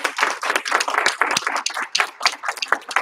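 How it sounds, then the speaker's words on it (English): A martial arts class gives a final round of applause for a young girl who has just earned her white belt, with dense, lively clapping from a small group close by, continuing without a break. "One last round of applause."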